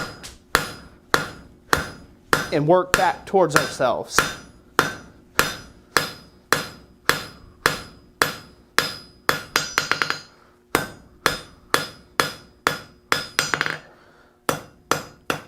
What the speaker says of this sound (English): we're just going to hammer flat down